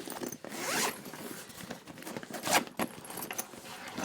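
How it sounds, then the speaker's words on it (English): A zipper runs along the expansion panel of a GuraGear camera bag, several quick rasping pulls with a longer zip near the start and another burst midway, close and crisp in a quiet room. "This zipper expands out"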